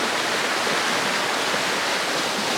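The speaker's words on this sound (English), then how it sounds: "There's so much water coming down here." Floodwater from a cyclone pours as a stream over a road, giving a dense, steady roar of rushing water that fills the whole stretch without pause.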